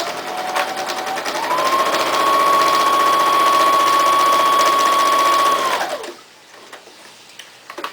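A sewing machine stitches diagonal quilting lines through batting for a puppet-style oven mitt, a loud rapid mechanical chatter with a steady whine that runs for several seconds, then stops abruptly into quiet.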